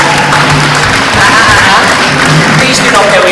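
Audience applause at a Miss Samoa NZ pageant farewell, a steady, dense wash of clapping from a large crowd that fills the whole moment, with a murmur of voices mixed in.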